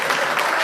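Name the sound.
audience applause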